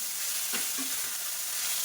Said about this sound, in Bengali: মাছগুলো একটুখানি ভাজা ভাজা করে নিলাম